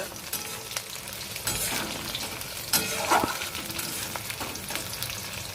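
Nigella seeds and spices fry in mustard oil in a pan, giving a steady close sizzle with scraping stirs and a few sharper clatters.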